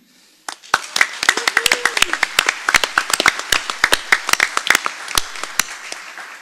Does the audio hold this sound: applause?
yes